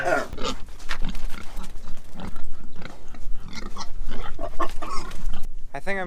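Small pigs being moved out of a farm pen grunt and squeal close by in a busy jumble, with rustling, scuffling movement and a person speaking now and then.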